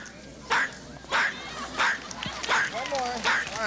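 A talking bird mimics a tiny Chihuahua's yapping, giving about five short sharp barks at an even pace, fairly close, with a faint voice murmuring between them.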